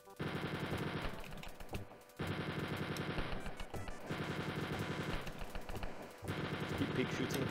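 Rapid automatic gunfire in the game Wolfenstein 3D, several long bursts of fast repeated shots separated by short pauses, loud and close.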